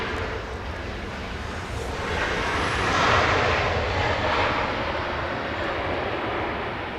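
KLM Boeing 787-10 Dreamliner arriving on the 25 left approach at LAX, a steady broad engine rush that builds to a peak midway and slowly eases, heard alone without voices.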